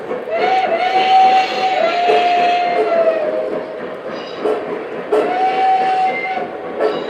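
Lionel model trains run on a layout with a continuous rolling rumble and a sustained whistle tone sounding twice, fairly loud and close, with no talk over it.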